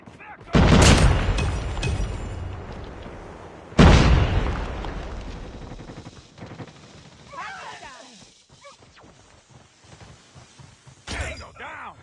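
Two heavy grenade blasts in the Call of Duty Mobile shooter game, loud and close with rumbling decays, followed by gunfire and in-game voice callouts.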